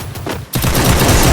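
Gunfire in the Free Fire video game: a short lull, then a loud burst of rapid automatic shots rattling on continuously.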